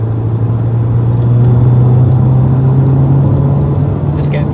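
A 1984 Vauxhall Cavalier accelerates to overtake slower traffic, its engine drone rising steadily in pitch over a constant road and tyre rumble, heard loud from inside the car.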